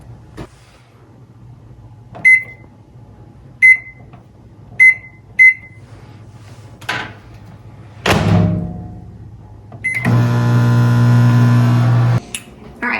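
Four short electronic beeps as buttons are pressed, a couple of thuds, then a microwave oven hums steadily on high for a couple of seconds before stopping.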